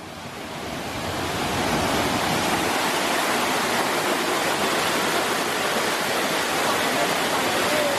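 Broad, constant roar of a rain-swollen waterfall at a Pattaya sculpture park, close and loud, rising in the first second or so and then holding steady as a dense wash of falling water with no voices.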